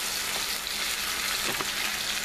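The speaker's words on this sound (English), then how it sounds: "Put the ackee in, yeah. And blend it in with the seasoning." Ackee is stirred into seasoning in a frying pan, giving a continuous soft sizzle with faint scraping from the stirring, close up and without talk.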